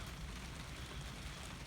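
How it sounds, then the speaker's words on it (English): Light rain falls steadily outdoors over a pasture road at night, a soft continuous hiss of drops with a low rumbling undertone and no voices. "It's still only raining"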